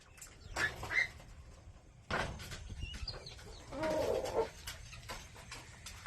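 Chickens around a coop make short, scattered clucks and calls, a few bursts near and faint against a quiet outdoor backdrop.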